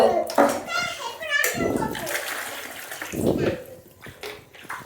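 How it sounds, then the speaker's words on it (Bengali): A young boy splashing and bathing alone in water during a hot afternoon, soft sloshing and splashes under a child's chatter and an adult's voice, close and fairly loud. "ও তো স্নান করা ব্যস্ত"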